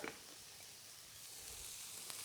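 Steady, quiet sizzling of cucumber stir-frying in a hot pan, a continuous crackle with a few small pops and no voices.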